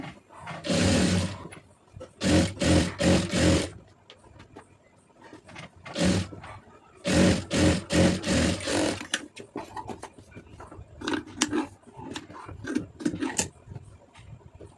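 Sewing machine stitching a folded-under hem on a plain blouse, running in several loud bursts of rapid stitching separated by short pauses, with quieter intermittent stops and starts toward the end.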